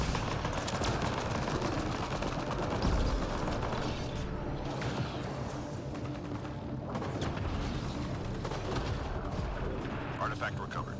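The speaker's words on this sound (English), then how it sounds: "Gunfire." Rapid bursts of gunfire and weapon fire in a Mass Effect Andromeda multiplayer match, dense overlapping shots with mechanical clicks and impacts, continuous and loud throughout.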